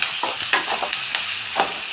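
Crushed ginger and garlic, curry leaves and three dried red chilies sauté in hot oil, giving a steady close sizzle broken by repeated scraping stirs of a spoon against the pan.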